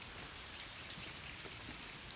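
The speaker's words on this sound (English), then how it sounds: "So again, it's pouring the rain" Pouring rain hisses steadily and densely with no gaps, a continuous wash of drops on surfaces with no talking.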